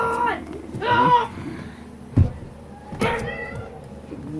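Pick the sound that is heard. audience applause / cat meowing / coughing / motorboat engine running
cat meowing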